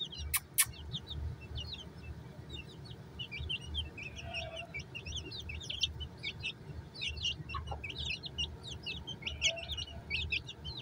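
Aseel chickens feeding on fresh green fodder give soft clucks and chirps from several birds, scattered and fairly close, over a low background rumble; no one speaks.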